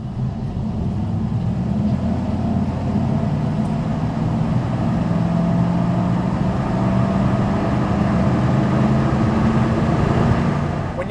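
A one-owner 1995 Chevrolet Suburban with a 4L60E automatic transmission drives along, its engine humming steadily with a pitch that climbs slightly under throttle amid continuous road and cabin noise.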